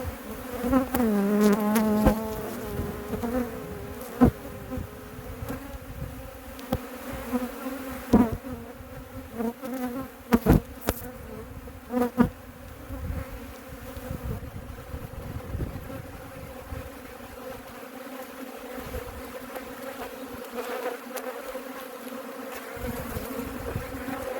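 Constant, dense buzzing of many honeybees close by around an open hive, a steady droning hum with occasional louder bumps and knocks over it.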